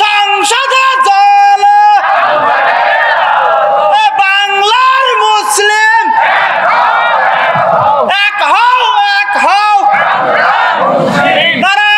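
A crowd at an Islamic religious rally in Monirampur shouts takbir together. The chant is loud and close, coming in repeated rising bursts of many voices with brief gaps between them.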